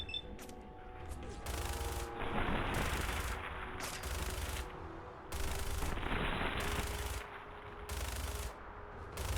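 Video game gunfire in the post-apocalyptic wasteland, aimed at headshots: bursts of rapid automatic shots come in several spaced volleys, loud and close, with faint talk in between.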